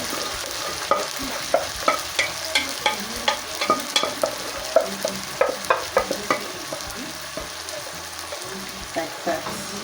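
Jute mallow and cowpea leaves stirred and sizzling in a cooking pot, a steady bed of frying hiss broken by a string of sharp clattering stirs and scrapes close by, with no talking.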